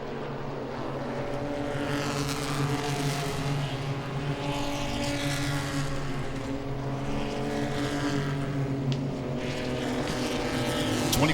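Pro-Six race cars lapping Langley Speedway, a continuous droning roar of several engines that swells and fades as the pack circles, heard from a distance.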